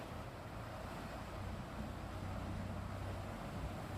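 Fast floodwater from the Mun River in Thailand rushes against a bridge pillar, a steady broadband roar with low rumbling and wind-like hiss, constant and moderately distant with no voices.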